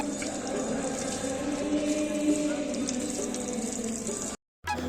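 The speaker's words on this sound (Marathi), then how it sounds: "त्याचबरोबर जे भक्त दूरवरून इथे येतात त्यांच्यासाठी पाय धुण्यासाठी सुद्धा इथे नळ लावलेला आहे।" Water tap for washing feet running at the ISKCON Radha Krishna temple in CIDCO N-1, giving a steady splashing rush that is close and constant and then cuts off abruptly near the end.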